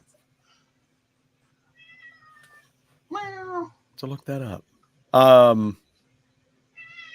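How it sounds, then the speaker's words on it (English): A cat meows a few times, short separate calls with quiet gaps between them, while a person speaks briefly. "Can you hear him meowing?"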